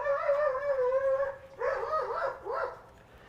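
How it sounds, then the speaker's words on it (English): Neighbor's dog outdoors howling in a long wavering tone, then giving three short rising yowling barks, moderately loud and heard on its own. "That's my neighbor's fucking dog. It never shuts up."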